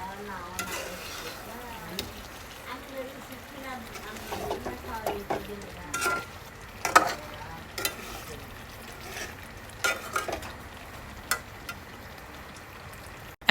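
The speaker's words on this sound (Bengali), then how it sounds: "এই তো মাংসটা হচ্ছে ভালোভাবে কষিয়ে নিছি আমি চিকেনটা" Chicken pieces sautéing in a pan for chicken pulao, sizzling steadily while a spoon stirs and scrapes again and again in an uneven rhythm, close and moderately loud.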